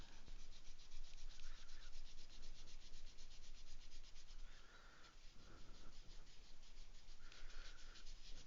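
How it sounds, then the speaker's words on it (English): A rubber eraser rubs steadily back and forth over coloured paper, a close, continuous scratchy scrubbing with brief, slightly brighter strokes now and then. "we're going to take our eraser and we're going to get rid of any areas that we didn't want"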